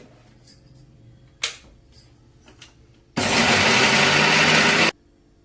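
Electric grinder churning soaked rice into dosa batter, switching on for a loud steady whirring burst of about two seconds after a few quiet clinks and knocks.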